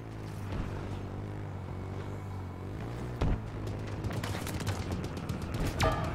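Video game gunfire from Halo Infinite or Vermintide comes as scattered bursts and sharp reports over a low, steady game hum. The shots grow busier toward the end, with a few louder cracks standing out.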